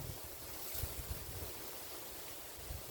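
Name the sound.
strong wind blowing outdoors in the fields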